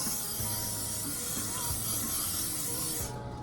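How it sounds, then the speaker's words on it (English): Olive oil cooking spray hissing from a can into a baking pan in a home kitchen, one steady continuous spray of about three seconds that cuts off at the end, close and loud. "I'm spraying some olive oil in here."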